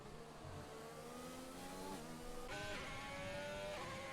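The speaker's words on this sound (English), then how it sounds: "Gaggle of cars coming in the pits." A pack of racing cars in a racing video game drives into the pits at Sochi, several engines droning and revving steadily together, with a sharp gear-change shift partway through.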